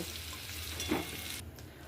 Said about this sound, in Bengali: আলুগুলো ভাজা হয়ে গেছে, এবার আলুগুলো আমি তুলে নেব।